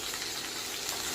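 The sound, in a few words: ivy gourd frying in oil in a pan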